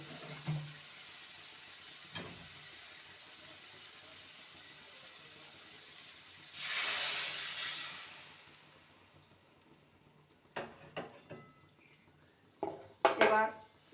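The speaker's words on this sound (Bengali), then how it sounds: "মশলা থেকে তেল ছেড়ে গেছে এবারে দিয়ে দেবো গরম জল" Hot water hits sizzling spiced oil in a pan for egg potato curry, a sudden hissing rush that fades over about two seconds, followed by scattered clinks of utensils against the pot.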